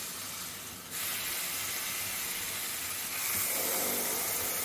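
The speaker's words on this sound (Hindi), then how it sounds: "ये पाइनएप्पल के पीसेस, जो केन्ड पाइनएप्पल हैं, इनको फ्राई करेंगे।" Canned pineapple pieces fry in a hot pan, filling the space with a steady, loud hiss and sizzle that swells slightly toward the end, with no voices heard.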